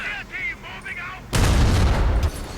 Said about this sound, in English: They are bombarding my base, really?